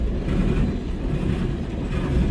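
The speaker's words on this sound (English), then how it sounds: "After this train passes" A CN freight train passes at Ladysmith, a steady low rumble of rolling cars and wheels holding at an even level throughout, with no voices.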